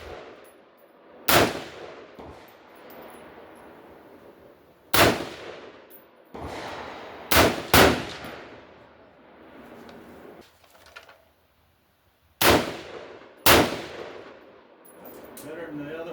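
Rifle shots ring off steel targets in quick pairs, about six loud sharp cracks with short metallic decays, spaced across the string with quiet gaps between.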